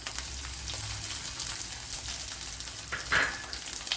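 Crushed garlic, about six or seven cloves, and half a teaspoon of cumin hit hot oil in a pan, giving a loud, steady, close sizzle with a brief brighter crackle near the end and no voices.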